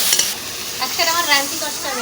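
Fried potatoes and whole cumin are stirred in a hot oiled pan, a steady close sizzle with scraping spoon strokes and faint background voices.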